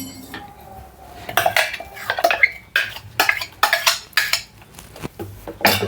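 Coconut chutney scraped from a container into a steel bowl, giving a run of close metallic clinks and scrapes of a spoon against the dish, in irregular bursts with no talking.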